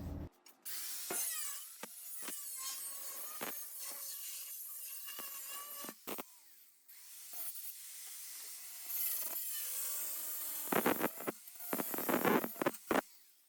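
Metal flange being cut from a door-bottom panel on a 1966 Triumph GT6, a close, steady grinding rasp with short pauses and sharp bursts of cutting strokes near the end.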